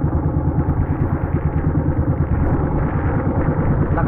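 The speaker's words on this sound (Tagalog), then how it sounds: "hindi natin pwede patayin makina kay maanod tayo kagad" A boat engine runs steadily at sea on the Pacific near Philippine Rise, a loud, constant low throbbing drone with a slight clattering pulse and no pauses.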